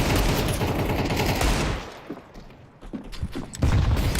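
Rapid gunfire from a Counter-Strike match, dense bursts of shots loud and close for the first second and a half, then scattered quieter shots and a renewed volley at the end.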